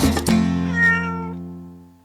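A voice imitates a cat with a single drawn-out meow, clear and close, fading away at the end.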